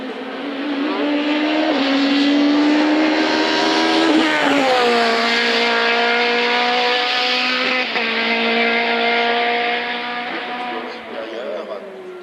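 A race car climbs the Chamrousse hill-climb course, its engine screaming loud and close through rising gear changes, with a sharp shift around the middle and a brief dip before it pulls on and fades slightly, commentary running underneath.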